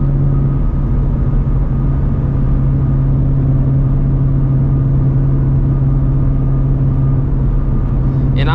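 Loud, steady low engine drone from inside a moving procharged Ford Shelby GT350, a constant cabin rumble with a strong low hum and no revving spikes.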